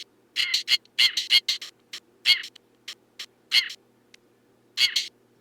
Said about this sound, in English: it's obviously a different bird sample.